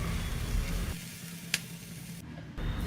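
Spices tempering in hot oil for a Tamil-style onion-tomato chutney give a steady close sizzle, briefly dropping away in the middle before crackling loudly again.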